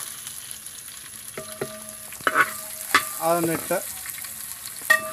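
Chopped beans and carrots are stir-fried in a pan, with scattered clinks and scrapes of a utensil over a quiet sizzle, and a brief spoken phrase in the middle.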